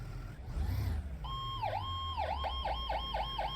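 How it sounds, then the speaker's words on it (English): A fire engine's siren sounds while responding to a call, a rising wail that breaks into a rapid repeating yelp, loud and close above a low engine rumble. "These sirens are a little bit different"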